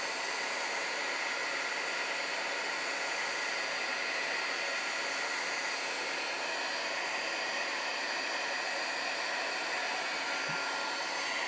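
An embossing heat tool blows hot air with a steady, even hiss that runs unbroken from start to finish, close and constant.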